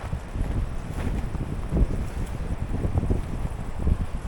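Steady wind buffeting outdoors ahead of rain in Artvin, Turkey, a continuous low rumbling roar with gusty swells, close to the microphone and without any voices.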